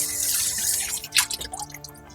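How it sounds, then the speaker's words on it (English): Water rinsing out a bowl that held cornstarch, a brief burst of running water and splashing followed by a few drips, close and alone. "Just rinse the cornstarch bowl out."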